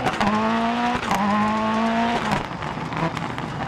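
Rally car in the Dirt Rally video game: engine revs climb in two quick gear pulls, then drop off as the car brakes for a tight left hairpin, with tire scrub and gravel noise.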